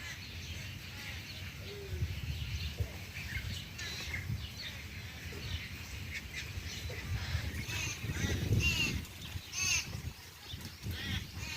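A crow caws with harsh, rasping calls, repeated several times at moderate distance over steady background noise.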